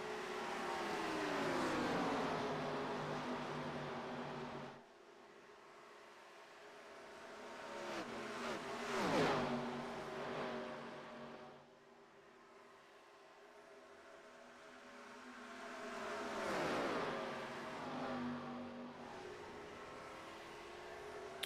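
Race cars roar around an oval track in the iRacing video game, engines swelling and fading in long passes with Doppler-like pitch drops as packs of cars sweep by, loud and continuous without talk.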